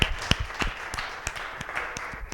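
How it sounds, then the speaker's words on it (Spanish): A church congregation applauds during a sermon, a crowd of hands clapping with several sharp, close individual claps standing out over a steady bed, moderately loud and without speech. "Denle un aplauso al Señor, hombre, qué barbaridad."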